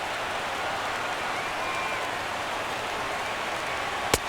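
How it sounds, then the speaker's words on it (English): A sparse baseball crowd in the video game MLB The Show 17 during a Houston at Miami game rises and cheers as a continuous, even wash of noise, with one brief sharp knock near the end. "And now this relatively sparse crowd comes to their feet one final time."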